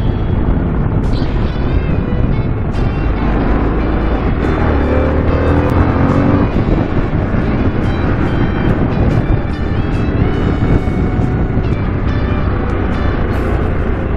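A 2022 Harley-Davidson Sportster S motorcycle of 121 hp cruising in sixth gear on a winding road, its engine a steady, loud rumble with a faint rattle, plus wind rush, continuous with no speech.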